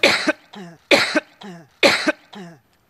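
A woman coughs during a political speech, three loud, close, harsh bursts in an even rhythm, each followed by a shorter second hack, with no talk between.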